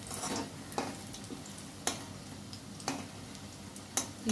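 Fish roe fritters with onion and chili frying in a pan, a soft continuous sizzle with a few sharp taps at regular intervals, fairly quiet and with no talking.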